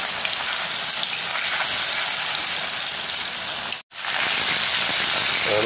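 Katla fish pieces frying in smoking-hot oil, producing a loud, continuous crackling sizzle like heavy rain. The sound cuts out for a moment near the end, then resumes just as strongly.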